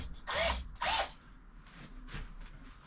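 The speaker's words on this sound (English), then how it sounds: "Just drilling them slow." A power drill slowly bores holes in the end of a Kona bike frame, two close, loud whirring bursts followed by fainter, softer drilling noises.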